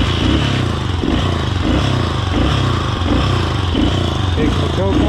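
An old Suzuki SP400 enduro single-cylinder thumper runs with its choke on, a loud, close, steady rapid chugging pulse from the engine while someone talks over it.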